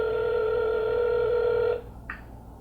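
A phone call's ringing tone, one long steady electronic tone lasting under two seconds that cuts off abruptly, followed by a short faint blip in a quiet line.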